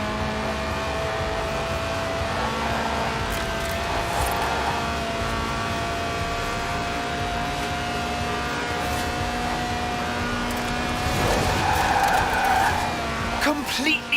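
A light race car with a high-revving 1.8-litre engine drones at steady pitch in Forza Horizon 4, its tires squealing in a long skid that grows louder near the end, with voices talking over it.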